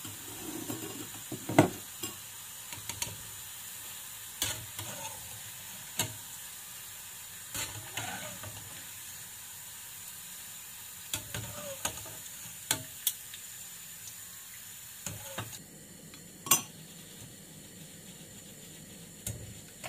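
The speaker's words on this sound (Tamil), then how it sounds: "வெட்டி வச்சிருக்கிற கரணக்கிழங்கை போட்டு பொரிப்போம்." Chopped yam pieces fry in hot oil, a continuous close sizzle and hiss broken by repeated clinks and scrapes of a spoon stirring in the pan, with no talking.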